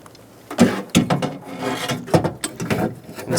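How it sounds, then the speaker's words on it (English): A ratchet drives a 10mm bolt into a Toyota Camry rear window regulator assembly, heard as close, quick clicking strokes and rubbing metal in short, uneven bursts. "We're going to install 1 10mm bolt slightly into our new regulator assembly."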